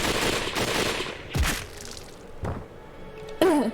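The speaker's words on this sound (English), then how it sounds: "Another barrage of bullets tore through almost every inch of my body" Gunfire barrage from the video game Hakuoki: Kyoto Winds: a few sharp, loud bursts spaced about a second apart, rising out of a dense, noisy game background.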